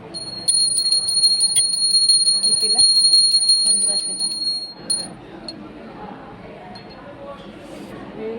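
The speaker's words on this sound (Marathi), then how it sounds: "कासाच्या घंटीचा आवाज खूप सुंदर आहे" A small bronze bell rings rapidly and brightly in a sustained jingling run, then a few lone dings, with a voice talking underneath.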